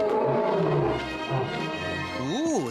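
A lion roars loudly and up close, a long rough growling roar that fades and is followed by a rising and falling wavering tail, heard with no one speaking.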